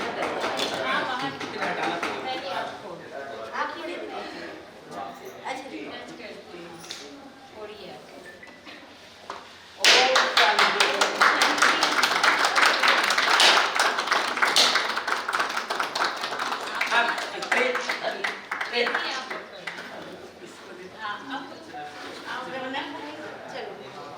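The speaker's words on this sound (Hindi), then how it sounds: "ताली बजाइए भाई।" People clap at a housewarming ceremony, light tapping and talk at first, then a sudden burst of loud, sustained group clapping mixed with voices that gradually thins out.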